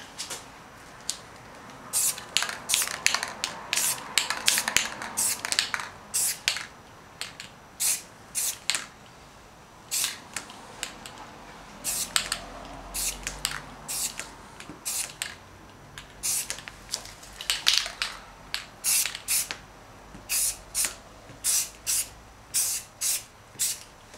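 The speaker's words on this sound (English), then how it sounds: "I'm going to hold it against my painting just very lightly, and I'm going to spray right across here." A spray paint can sprayed across a nature painting in repeated short hissing bursts, close and distinct, each a second or less, with brief pauses between them and no voices.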